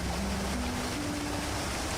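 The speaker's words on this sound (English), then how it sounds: "I loved adding like the atmospheric sound of like the river here with the little" Steady rushing water from a river and small waterfall in a video game, a broad continuous wash with faint low tones running underneath throughout.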